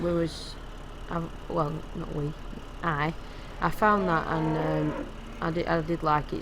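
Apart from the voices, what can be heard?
cows mooing in Farming Simulator 2015 video game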